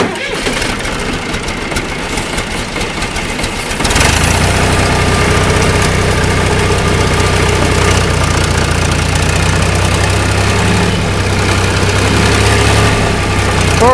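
A John Deere 2240 tractor, hitched to a 3-point cultivator on a hay field, roars loudly and steadily at close range with a deep, rough diesel rumble; a softer, busier engine noise comes first.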